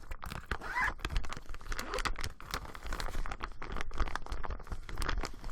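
A small zippered bag, part of a knitting unboxing, being handled and opened up close, with brisk rustling, crinkling and a short zipper rasp filling the few seconds with no voices.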